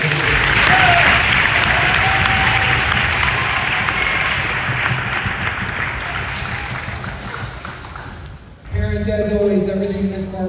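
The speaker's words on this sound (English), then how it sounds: "So round of applause again" A loud, steady wash of audience applause fills a school concert hall, sustained for several seconds before fading and breaking off, followed by other sound and faint talk.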